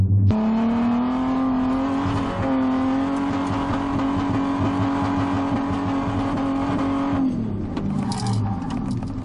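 A powerful car engine roars at sustained high revs for several seconds during a wheelie, then drops off abruptly as the throttle is released.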